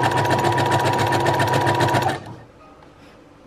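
Brother sewing machine running steadily at close range, stitching zigzag and back stitch with a fast, even mechanical whir that stops abruptly about two-thirds through, leaving quiet room tone.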